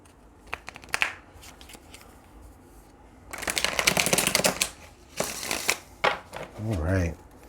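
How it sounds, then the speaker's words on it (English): Several bursts of riffling cards being shuffled for a card reading, crisp rapid flutters with short gaps between, ending in a brief murmur of voice. "Let's get one more good shuffle."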